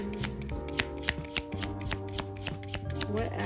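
Oracle cards are shuffled by hand in a close, quiet run of soft riffling and tapping against a steady low background tone.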